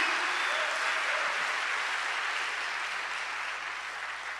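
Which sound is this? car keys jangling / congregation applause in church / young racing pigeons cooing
congregation applause in church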